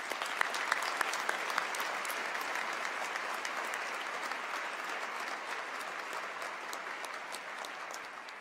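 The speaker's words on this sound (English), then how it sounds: "So if you could please raise your hands and clap for them." Crowd clapping outdoors at a university presidential inauguration, a broad steady wash of many hands with a few sharper claps at the start, heard from a distance and fading slightly toward the end.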